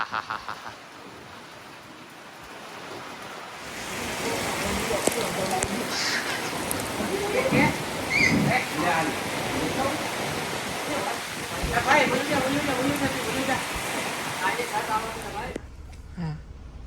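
Heavy rain pours down in a sudden dense roar that rises after a few seconds of quieter ambience, holding steady and loud for a long stretch before cutting off, with indistinct voices beneath.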